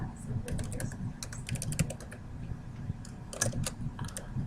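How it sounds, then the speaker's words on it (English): Heavy, forceful typing on a computer keyboard, clustered bursts of sharp loud clacks with brief pauses between runs, close up and alone. "Looks like I'm just pounding the keyboard with my fist the way I'm typing today."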